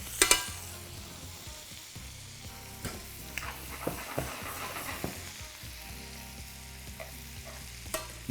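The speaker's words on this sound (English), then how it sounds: "Now that chili and garlic butter is foaming away there. Just keep the prawns moving in the pan." King prawns frying in foaming chili garlic butter in a pan, a steady close sizzle broken by clatters and scrapes as they are stirred and moved around, no talking.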